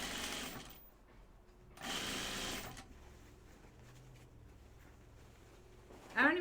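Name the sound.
sewing machine stitching side seams of pajama bottoms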